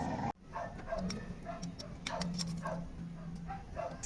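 Rowdy stray dogs barking in short, repeated yaps and woofs near someone changing the oil filter on a Kawasaki Ninja motorcycle, with faint clicking in the background and no talk.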